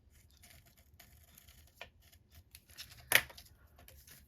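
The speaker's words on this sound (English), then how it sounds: "So we need another piece, the same size. So we'll just cut another one." Scissors snip through a same-size piece of paper for an altered tin and mini journal craft, quiet rustling with a few soft cuts and one sharper close crunch near the end.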